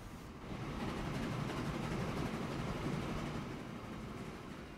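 A Class 53 Prussian steam train rumbles along in the Transport Fever railway simulation, a steady low rolling drone that swells in after a brief quiet start and holds evenly, heard faintly and alone.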